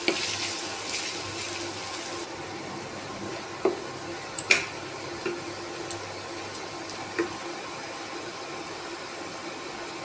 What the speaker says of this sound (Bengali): এবার আমি প্রথমে কুচিয়ে রাখা বিট দিয়ে দিলাম। বিটটা কিছুক্ষণ আমি ভেজে নেব।